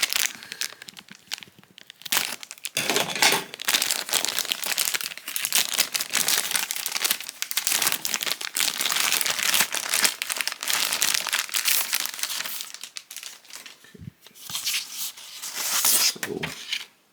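Continuous crinkling and tearing as tape is cut and pulled off a small cardboard package containing an action figure, close and steady for most of the span with a few brief pauses.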